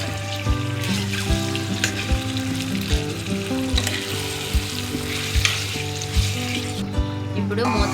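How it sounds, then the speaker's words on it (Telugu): Chicken curry frying in a pan while being stirred, a loud continuous sizzle with regular clinks and scrapes of a spoon, heard close with music playing underneath. "మొత్తం కలుపుకుందాం"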